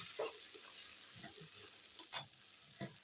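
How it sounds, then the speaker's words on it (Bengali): Tomato paste frying in a pan with small cardamom pods, a soft low sizzle with a few faint stirring scrapes and one sharper clink. "এখন দিয়ে দেবো টমেটো পেস্ট টমেটো পেস্ট দিয়ে ভালো করে কষিয়ে নিই"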